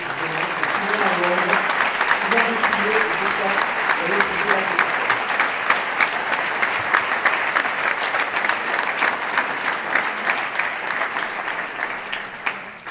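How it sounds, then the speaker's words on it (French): Steady applause from an audience at a ceremony in Saint Pierre de la Mer, a full crowd clapping continuously with a faint voice under it early on. "J'aimerais que vous les applaudissiez"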